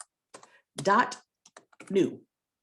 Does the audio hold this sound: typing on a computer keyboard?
yes